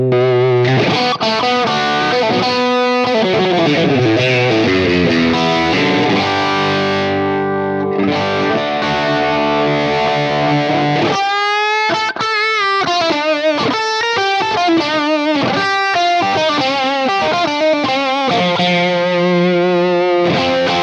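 Electric guitar through a DryBell Unit67 treble booster and compressor pedal plays loud, bright, driven chords and riffs for a long stretch, with a short pause before a busier choppy passage, and no talk.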